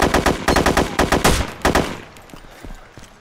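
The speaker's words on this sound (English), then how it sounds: "Wait, Thomas, are we shooting people" Automatic gunfire in the video game DayZ: a loud, close burst of rapid shots rattles for about a second and a half, then fades into scattered fainter echoing pops.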